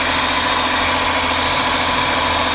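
The engine of a Mercedes R129 300SL with a vacuum leak near the idle control valve idles as a dense, steady hum and hiss, loud and close, with no talk.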